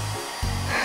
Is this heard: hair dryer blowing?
yes